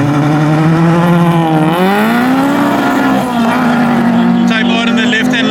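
Honda Integra Type R and Fiat Uno Turbo drag racing side by side at a drag strip, loud high engines revving and rising in pitch as they launch, with commentary over the engine noise and a higher whine joining near the end.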